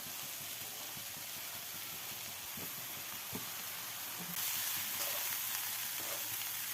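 Chopped vegetables sizzle and fry in a pan for a Kerala masala dosa potato filling, a steady close hiss with faint stirring knocks, briefly growing louder partway through.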